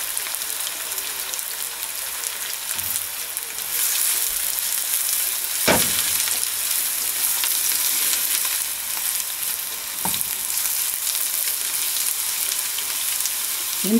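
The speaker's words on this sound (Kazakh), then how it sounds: "Сәбізін қуырып жатырмыз." Onion and carrots fry in oil in a kazan with a constant crackling sizzle that swells slightly after a few seconds, and a couple of sharp utensil clicks sound against the pot.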